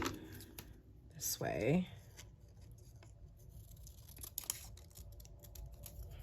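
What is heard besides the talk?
scissors cutting paper florals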